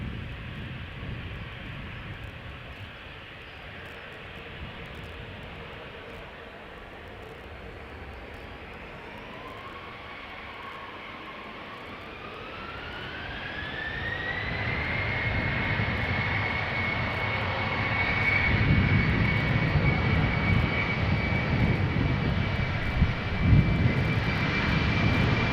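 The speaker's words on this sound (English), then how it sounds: "Choc-y also simultaneously taking off." A passenger plane takes off on the Polderbaan at Schiphol, its engine whine rising steadily in pitch as it spools up, then a broad roar that swells and grows louder as the aircraft accelerates down the runway.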